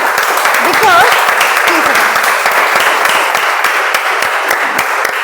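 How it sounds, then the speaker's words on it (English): Audience at a Toastmasters meeting breaks into sustained applause for a speaker, a dense wash of clapping from many hands that holds steady throughout, with a brief voice rising over it near the start. "Can we have a better round of applause for Ruchika?"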